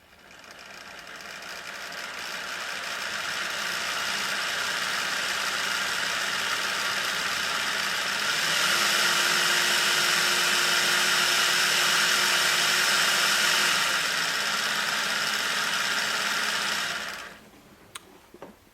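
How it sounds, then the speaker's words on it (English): A Piko BB25600 N gauge electric model locomotive runs with a steady, fairly loud high-pitched motor whine and hum that lasts about seventeen seconds, rising slightly in the middle stretch before cutting off, followed by a couple of small clicks. "And now we'll start with the sound check for this Piko electric locomotive."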